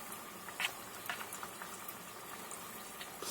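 Oil heating in a pan for frying crispy fish fillet, with a steady soft bubbling patter and a few small pops, close and quiet, no voices.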